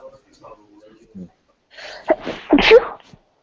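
A single sharp sneeze bursts out after a few soft, faint vocal sounds.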